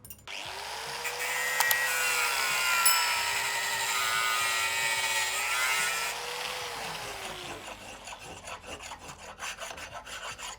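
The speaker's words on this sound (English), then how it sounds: "first thing to do is just going to zap this stud off flush with the cylinder head" Metal stud on a Classic Mini cylinder head being cut off flush with a power tool, giving a loud steady rasping, grinding whine for several seconds that then fades into lighter scraping and clatter, with no talking.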